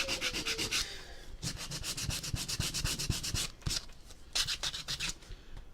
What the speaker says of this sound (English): Let me just go back over this one a little bit now that I got a better piece of sandpaper.